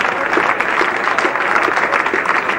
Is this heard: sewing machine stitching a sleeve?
no